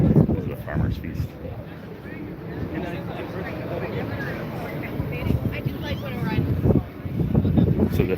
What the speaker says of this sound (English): It's kind of windy right now on the face.